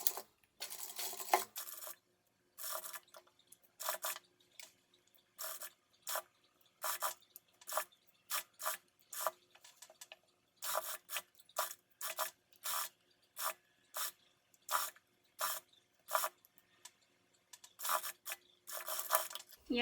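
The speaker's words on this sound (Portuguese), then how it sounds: "E agora eu vou lá pra máquina reta, vou passar uma costura aqui, ó, bem na beiradinha" Straight-stitch sewing machine runs over dress fabric and lining in short bursts, each a close, rapid mechanical stitching rattle separated by quiet pauses, repeated many times in an irregular rhythm.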